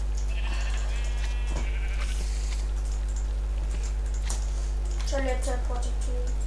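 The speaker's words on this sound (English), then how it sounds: "Hello, sheep." Blocky sheep in the video game Minecraft give a couple of short bleats, one early and another near the end, over a steady low hum and scattered game sounds.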